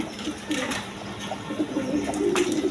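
A pair of Maltese pigeons gives low, throaty coos at close range, the soft calls recurring in short bursts against faint background noise.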